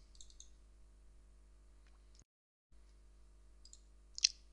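A computer mouse clicks a few times in quick pairs during software installation, small close taps over quiet room hum, with a sharper final click near the end.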